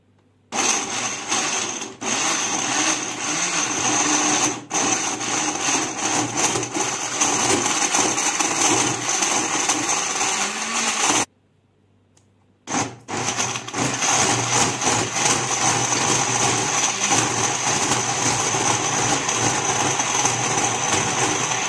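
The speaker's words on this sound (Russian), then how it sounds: "Далее осталось все это прокрутить хорошенько на очень высокой скорости." A blender grinds a thick raw sauce of sun-dried tomatoes and spices at very high speed, a loud, steady motor whine. It cuts out for about a second and a half, then starts up again and runs on.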